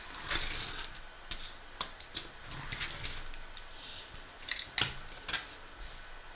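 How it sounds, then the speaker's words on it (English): A rotary cutter rolls along the stitched edge of a fabric height chart, giving a steady crunchy scrape broken by sharp clicks and ticks, close and fairly quiet with no talk. "with my rotary cutter I'm just going to cut that off"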